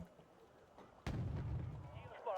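A heavy mortar round fires in an armoured-deck strategy war game, one sudden loud blast about a second in followed by a sustained booming rumble and a second surge near the end.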